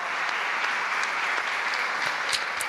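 A church congregation applauds, a steady wash of dense clapping that stays even and fairly loud for the whole stretch, with no voices rising above it.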